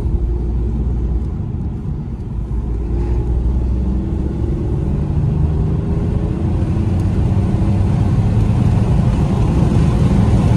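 Inside an automatic car cruising on an open road, a steady low engine and tire rumble holds evenly throughout with no shifts or breaks.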